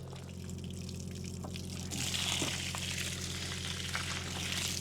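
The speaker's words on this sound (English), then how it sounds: "that's the transmission draining" Fluid, with a lot of water in it, runs and trickles steadily from the transmission of a TD25G dozer, growing louder partway through, over a constant low mechanical hum.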